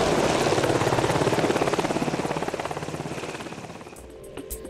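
A helicopter flies close and loud, its rotor making a steady rapid chop that fades slightly as it moves away, with no voices over it.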